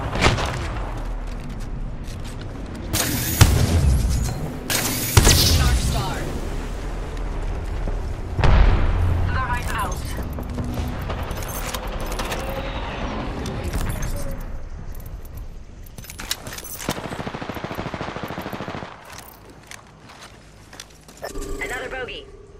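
Video game gunfire in bursts of heavy booming shots and volleys, loud and close, spread unevenly across the stretch with quieter gaps and a voice talking at points.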